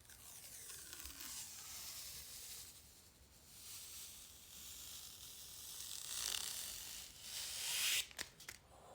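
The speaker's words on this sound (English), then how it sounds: "Let's peel our sticker off of our mirror." Protective sticker film being peeled off a makeup mirror gives a close, crackling, sizzle-like tearing that runs for several seconds, swelling and sharpening near the end before a few brief snaps.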